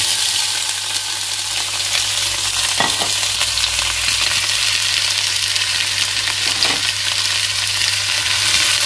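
Peppers, fennel and onion fry steadily in hot oil, a dense continuous sizzle with a couple of brief stirring scrapes, close and loud throughout.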